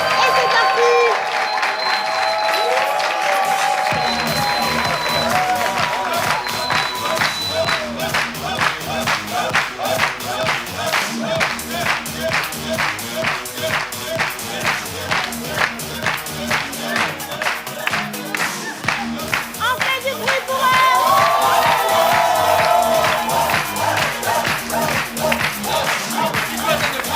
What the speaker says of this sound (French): On applaudit pour les candidats.